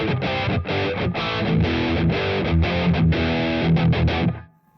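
Electric guitar played through a big orange overdrive pedal stacked with a 91 overdrive pedal, a thick, saturated distorted tone of sustained chords and riffs, loud and alone, cutting off abruptly at the end.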